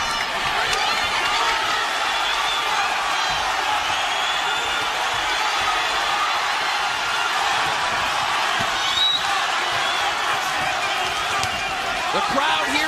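A boxing crowd roars steadily through a Las Vegas arena during a late-round exchange between Vergil Ortiz and Serhii Bohachuk, with constant dense cheering and shouting that swells slightly near the end, commentators talking over it.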